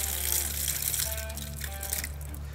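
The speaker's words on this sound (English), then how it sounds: "So I have the water on, then look at that. It'll just blast any crud or whatever right out of your bottles." Spray from a bottle washer fitted to a garden hose, blasting water into homebrew beer bottles: a steady, close, continuous rush and hiss of water with a faint splashing texture, no talking.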